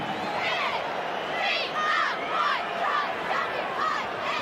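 A rugby league stadium crowd at the 1990 NSWRL preliminary final between Canberra Raiders and Brisbane Broncos cheers and chants in a continuous, rolling roar with rhythmic swells.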